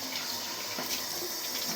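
Cold water runs steadily from a tap into a sink while a Mühle R95 razor is rinsed during a shave, a close, continuous broadband hiss and splash with no talking.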